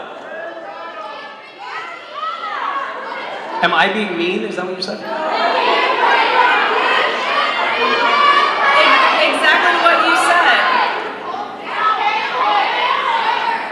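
An audience shouts and yells all at once in a loud, sustained burst of overlapping voices and laughter, with a person talking over the din.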